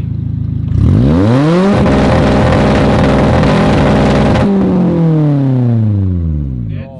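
A car engine running on brake fluid instead of motor oil is revved hard: a loud, close roar climbs in pitch, holds at high revs, then winds down smoothly, with a brief voice near the end.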